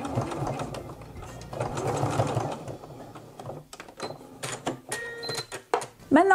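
Sewing machine backstitching back and forth to secure flat elastic on a summer dress, a close, fast mechanical whir in bursts, followed by softer handling clicks and fabric rustle.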